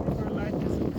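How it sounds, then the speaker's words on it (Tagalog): Strong outdoor wind buffets the microphone in a steady, heavy low roar that fills the whole moment. "grabe ang hangin"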